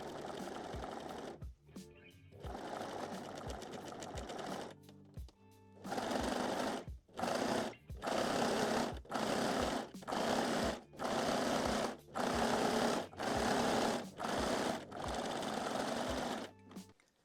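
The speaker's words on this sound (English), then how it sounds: "I'm using the cover stitch machine today." A cover stitch machine sews the underbust of a wire-free bralette, its rapid mechanical hum coming in a few short runs and then in a long string of regular bursts with brief gaps between them.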